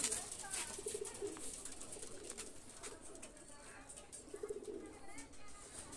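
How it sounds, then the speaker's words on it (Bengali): A pair of Saki pigeons, newly released, give soft repeated coos from close by. The coos come twice in short bursts over faint background noise. "কবুতর দুটো ছেড়ে দেখাচ্ছি দেখেন।"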